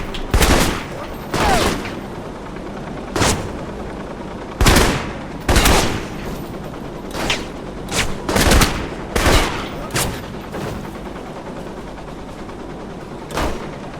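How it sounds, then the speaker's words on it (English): Gunfire from the video game Alpha Protocol, sharp bursts and single shots recurring irregularly over a steady background, loud and close, with a few spaced volleys. "I am shooting him in the armor there."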